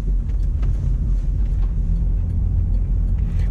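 A Chevrolet Caprice taxi drives and turns, filling the cabin with a loud, steady low engine and road rumble heard from inside the car, with no talking over it.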